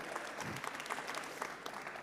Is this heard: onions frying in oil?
no